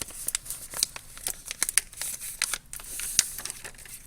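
A sheet of note paper being folded up by hand, with close, crisp crinkles and rustles in quick irregular bursts, with no talking.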